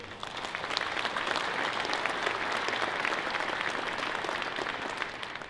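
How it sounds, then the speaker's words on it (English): A conference audience applauds steadily, with dense clapping that holds at an even level for several seconds. "can I ask for a round of applause for all the efforts of the Board of Directors this year?"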